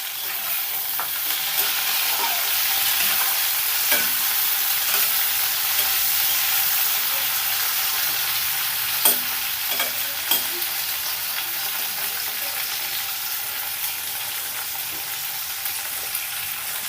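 Onion and tomato frying in a pan for an Odia flat-bean curry, with steady close sizzling and intermittent scraping stirs throughout.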